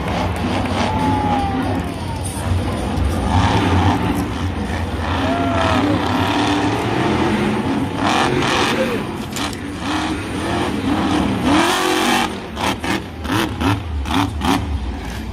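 Monster truck engines rev and idle at a Monster Jam freestyle event in Denver, Colorado, a roaring, fluctuating drone with rising whines and sharp bursts toward the end, under crowd noise and faint arena chatter.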